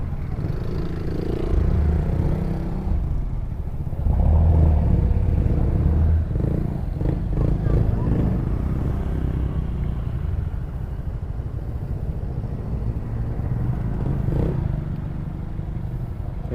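A motorcycle taxi rumbles through city traffic in the Philippines, its mid-pitched engine running steadily and swelling now and then, with a rattling clatter and nearby vehicle noise around it.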